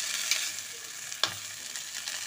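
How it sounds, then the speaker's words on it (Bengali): Ground spices frying with a splash of water in a pan for Bengali aloo dum, a soft steady sizzle broken by a couple of sharp stirring scrapes, with no one talking. "মশলাগুলো একটু জলের সাথে মিশিয়ে একসাথে একটু ভাজা হয়ে যাবে।"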